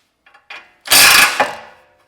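A ratchet works loose the ball joint bolt on a Honda Element's front lower arm, giving a few faint clicks and then one loud, close, grinding burst of ratcheting that fades out, with no talking.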